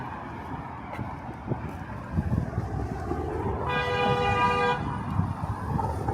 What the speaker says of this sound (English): Holy honking, that is one thing I didn't hear a whole lot of on my trip.